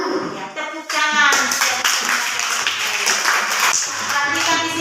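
Hands clapping in a primary school classroom, a steady dense patter of several children applauding together for a few seconds, with voices mixed in underneath.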